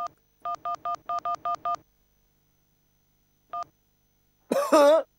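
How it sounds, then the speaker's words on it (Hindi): A quick run of six electronic telephone keypad tones followed by a single tone after a pause, then a short burst of a voice or cough. "फोन लगाता हूँ।"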